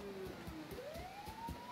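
A faint wailing police siren in the video game Mafia III rises and falls in pitch, with soft repeated thumps and muffled game-like sounds around it.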